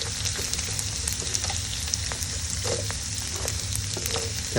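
Vegetables (green peppers, carrot, cabbage, green peas, green onions) stir-frying in a pan for tofu fried rice: a loud, steady close-up sizzle with occasional scraping stirs, continuous and alone.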